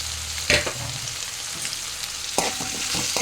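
Sliced drumsticks (moringa pods) stirred and frying in hot oil for a poriyal: a steady sizzle with scraping stir strokes and a few sharper clatters, close and alone with no voices.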